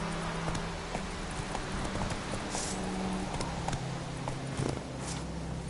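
Hooves of a ridden horse clip-clopping in a steady walking rhythm, close and continuous, with a low rumbling background and no talk.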